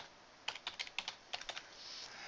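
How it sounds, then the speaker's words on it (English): Computer keyboard typing, a quick run of about a dozen light key clicks in two short bursts, close but soft over a quiet hiss. "I'm having trouble typing today."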